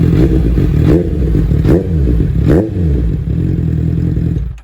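A Honda CBR650F motorcycle engine idles loud and close, rough and throbbing, with three short blips of the throttle spaced about a second apart before it settles and cuts off, no talk over it.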